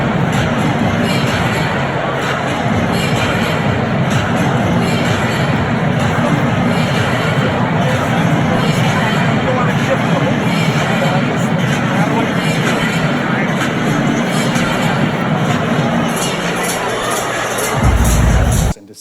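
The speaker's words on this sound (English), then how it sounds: "this is a small video of the atmosphere in there, the crowd" Loud, sustained crowd atmosphere inside a Grand Slam tennis center court at night, a dense rumbling roar of many voices with a louder swell near the end before it cuts off.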